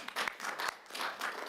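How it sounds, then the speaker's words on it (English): Applause in a committee meeting, a fairly faint scattering of clapping with a few sharper individual claps standing out, heard at a distance in the room. "Maybe just a round of applause for Dawn, even though she's not in the room."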